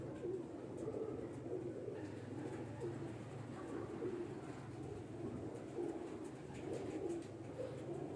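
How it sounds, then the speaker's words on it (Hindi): Pigeons that have just landed on an outdoor rooftop coo in soft, repeated low calls over a steady background murmur, heard from a short distance. "ये कबूतर हैं जो अभी जो उतरे हैं सारे"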